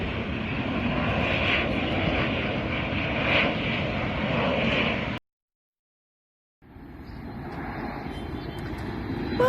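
An airplane coming in to land near Agia Irousalim and Alaties beaches, a steady loud engine roar that cuts out abruptly for over a second, then returns a little quieter.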